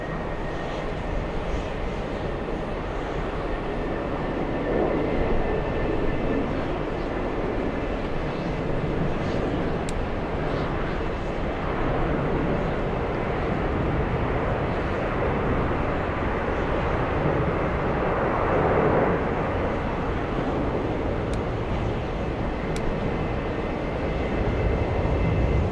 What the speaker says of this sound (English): landing right now, we have JetBlue 2084 flying in from Raleigh.